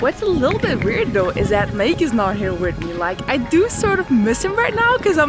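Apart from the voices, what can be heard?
No distinct noise like a dog, phone or traffic.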